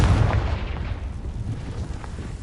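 A Confringo blasting spell explodes in a Harry Potter video game, a loud low boom that rumbles and slowly decays across a couple of seconds.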